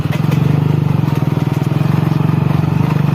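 A motorcycle engine putters on a newly cut forest road, giving a steady, close, rhythmic low thrum with fast regular pulses and light clatter throughout.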